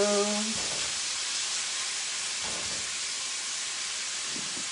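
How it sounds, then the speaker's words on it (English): Bacon sizzles in a hot pan as a steady, bright hiss that holds evenly throughout, close and fairly loud, with a brief tonal sound at the start. "get that bacon cooking and do the Brussels sprouts"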